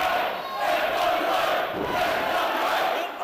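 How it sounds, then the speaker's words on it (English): A wrestling crowd at an FWA heavyweight contendership match roars loudly and continuously, with wild cheering and shouting that swells and dips across the clip. "you can hear the crowd going nuts for this FWA action"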